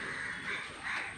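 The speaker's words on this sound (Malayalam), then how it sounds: "കാക്കകൾ" Crows caw in two or three harsh, drawn-out calls, fairly close, over a steady background hiss with no talking.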